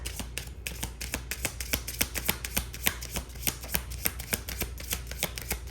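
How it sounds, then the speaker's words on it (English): Tarot cards being shuffled, a steady run of crisp riffling flicks repeating in a quick rhythm, close and moderately loud with no talking. "All right, last shuffle."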